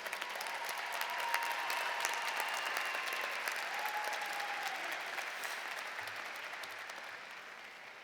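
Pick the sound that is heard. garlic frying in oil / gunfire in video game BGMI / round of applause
round of applause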